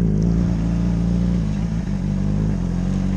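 Moped engine running on a rough, low meadow, a loud close steady drone with uneven clattering and slight dips in throttle, no speech.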